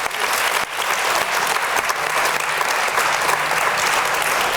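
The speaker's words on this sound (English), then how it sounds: "A round of applause for our panel" An audience at a festival panel session gives a round of applause, a loud, steady roar of many hands clapping that holds evenly for several seconds.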